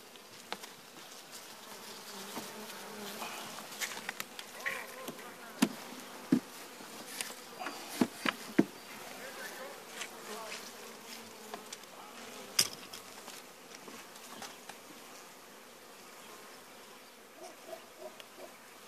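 Honey bees buzz steadily at an opened hive, a faint continuous hum with scattered sharper buzzes and light knocks, and no one speaks.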